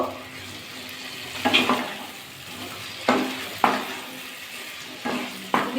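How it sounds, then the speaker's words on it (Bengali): Cauliflower and peas frying with spices in a kadai, a steady low sizzle broken by several sharp scraping stirs of the spatula against the pan. "ভালো করে মশলাটা কষিয়ে নিয়েছি কড়াশুটি দিয়ে এবার ফুলকপিটা দিয়ে দেবো"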